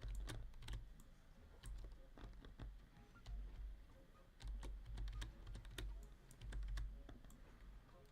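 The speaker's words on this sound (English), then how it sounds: "your keyboard sounds amazing" Rapid typing on a computer keyboard, a quiet close run of crisp clacky key presses in uneven bursts with short pauses between, no voices over it.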